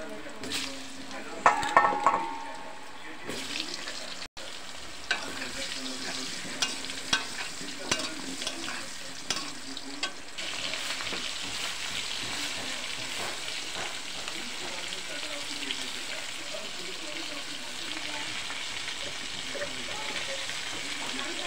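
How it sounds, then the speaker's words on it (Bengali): Dried red chilies and cumin seeds tempering in hot oil in a home kitchen, a soft continuous sizzle with a few sharp pops and stirring clatter early on, fairly quiet and steady. "শুকনো লঙ্কা আর জিরা ফোড়ন দিলাম।"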